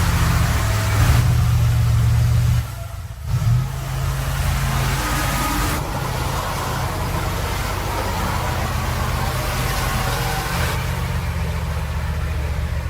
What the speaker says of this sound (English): Kamaz off-road e nada mais.